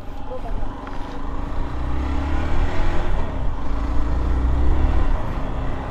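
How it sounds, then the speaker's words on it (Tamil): An off-road vehicle engine in the hills of Vattavada roars steadily and close, swelling louder as the throttle is raised, with a deep rumbling low end throughout. "த்ராட்டில் ஏற்றுறேன் ஒன்று உரும்புது"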